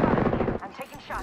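Rapid automatic gunfire from Apex Legends, a loud burst of repeated close shots for about half a second, then quieter scattered shots and game effects with a short burst at the end.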